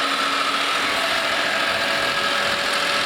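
A worn 1989 Honda Acty 4x4 kei truck engine idles steadily at close range, a constant mechanical hum with a faint ticking texture and no voices.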